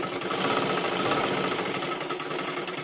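A sewing machine runs double stitching in a loud, continuous mechanical whir with a fast, even rattle and no talk.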